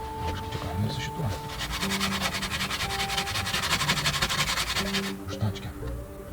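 Rust being sanded off a car body, a rapid rasping scrub with pauses and restarts, close and moderately loud, while people talk over it.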